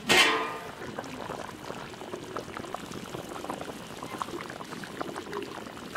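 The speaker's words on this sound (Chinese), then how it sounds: "小火慢炖两个小时。" Pig trotters simmer under a lid in beer-and-soy braising liquid over low heat, a soft, steady bubbling after a brief clatter at the start, close and without talk.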